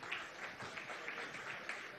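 Applause from a crowd honoring María at a Venezuelan government broadcast with President Maduro, a soft steady patter of clapping heard faintly and at some distance.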